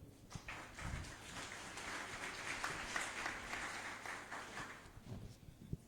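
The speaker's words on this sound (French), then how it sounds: "Merci d'applaudir à nouveau le modérateur." A conference audience applauds the moderator of a cybersecurity panel, a sustained wash of clapping that swells and then tapers off near the end.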